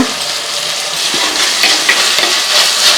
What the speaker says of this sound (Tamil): இப்போ தக்காளி நல்லா மசிக்கிற அளவுக்கு நல்லா வதக்கி எடுத்துக்கலாங்க